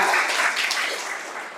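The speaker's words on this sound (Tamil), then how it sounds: "ஒரு சிறப்பான கைத்தட்டு கொடுங்க இந்த அம்மாக்கு" An audience claps for a woman at a Tamil spiritual talk on service to God, a dense, steady wash of applause that holds loud and even before easing slightly toward the end.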